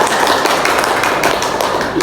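A classroom of students claps together in a dense, steady burst of applause, loud and close, for the whole stretch.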